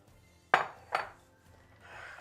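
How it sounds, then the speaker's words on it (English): Rinsed beef pieces dropped into a metal cooking pot while making edikang ikong vegetable soup, two sharp close clanks about half a second apart, then quiet kitchen background. "So I'm just going to put my rinsed beef into my pot."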